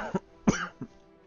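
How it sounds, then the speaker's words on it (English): Three short coughs from a sick person, close to the microphone, with a brief pause between each and a fading tail after the last. "Sorry if I cough in your ear."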